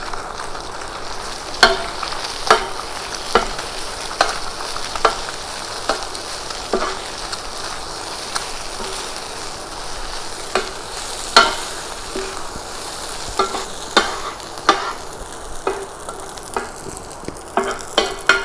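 Egg fried rice sizzles steadily in a pan while being stirred, with repeated sharp scrapes and knocks of the utensil punctuating the continuous frying hiss, no speech.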